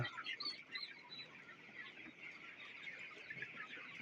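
Many 28-day-old broiler chickens cluck and chatter together in a constant, busy murmur, with occasional sharper calls standing out.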